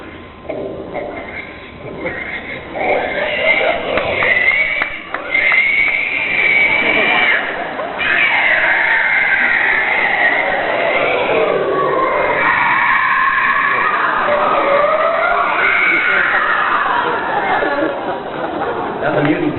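A voice actor imitates a pig, grunting and squealing for an audience at a convention panel on cartoon voices, with loud crowd chatter and laughter mixed under the voice.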